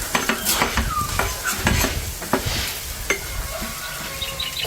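Ginger sautés in a hot pan with a crackling sizzle, broken by frequent sharp clinks and scrapes of a metal utensil against the pan, fairly close and with no talking.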